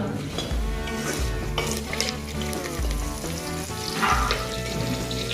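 Crushed garlic and puffed rice fry in a pan, sizzling steadily up close with repeated stirring and scraping through the whole short stretch, no voices.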